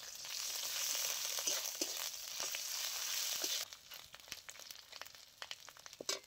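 Onion and ginger paste fry in a pan for a bottle-gourd and prawn dish, a steady close sizzle broken by stirring scrapes, easing into quieter crackles and taps toward the end.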